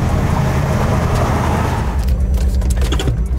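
A restored Datsun 280Z cruising at highway speed around 70 mph, with a steady, loud low engine and road drone and wind roar filling the cabin, plus a few light rattles near the end.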